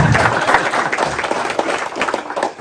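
A crowd at a racing hall of fame induction ceremony claps steadily for a few seconds, dense and fairly loud, with no talking over it.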